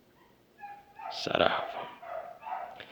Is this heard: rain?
no